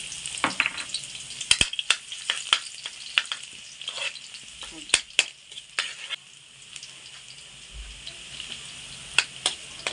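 Garlic sautés in a pan for a Filipino dish of small crabs with santol, a low steady sizzle broken by frequent sharp clinks and scrapes of a utensil stirring against the pan, with no talking.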